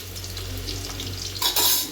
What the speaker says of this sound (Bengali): আলুগুলো এখন লাল লাল করে ভাজা হবে